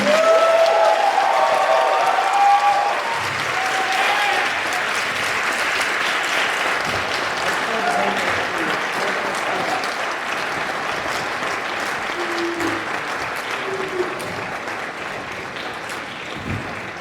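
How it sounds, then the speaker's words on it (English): A school audience at a spring concert applauds long and loudly, a dense sustained clapping with some crowd noise that slowly thins toward the end, alongside faint voices. "Can we get a round of applause for Mr."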